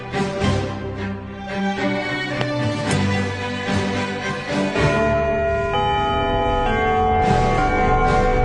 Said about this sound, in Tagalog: Hintayin nyo muna yung bell bago nyo sagutan.